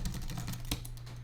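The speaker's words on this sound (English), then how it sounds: "the reason why we're typing all of this crap on the keyboard" Fast, steady typing of gibberish on a computer keyboard, a dense run of light key clicks with one sharper tap, heard fairly faintly over a low background hum.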